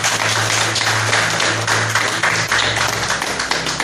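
A church congregation applauding for Jesus, dense steady clapping from many hands filling a large room, loud and continuous throughout.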